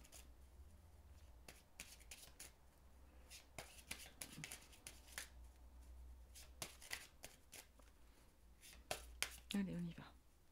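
Tarot cards shuffled by hand in a series of quick riffling bursts with soft flicks and taps, close and fairly quiet, with low room rumble underneath.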